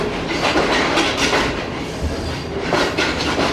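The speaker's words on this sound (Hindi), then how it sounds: "फाइनली दोस्तों रोडी जंक्शन को ट्रेन ने छोड़ दिया है।" The Shalimar Express pulls out of Rohri Junction in Pakistan: a loud, close rumble with rhythmic clickety-clack of wheels over rail joints and faint squeals, heard from on board with no talking.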